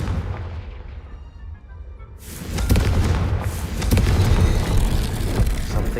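Fiery Confringo blasting spell going off in Hogwarts Legacy, a loud booming burst that rolls into sustained rumbling explosions for several seconds.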